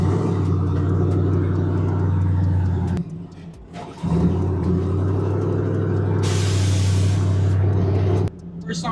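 The twin-turbo LS-swapped Lincoln Continental gives a loud, deep engine rumble close by, holding steady with a brief drop near the middle before resuming. A hissing burst comes late, and voices are heard over it.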